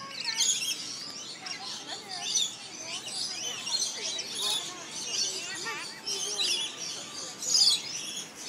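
A flock of parrots keeps up a dense, busy chatter of chirps and tweets, steady and fairly close, with a louder burst near the end and human voices mixed in.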